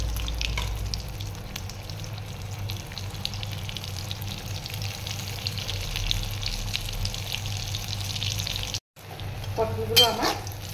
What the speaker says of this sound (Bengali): পটলগুলো আমি একে একে এরকম করে ভেজে নেব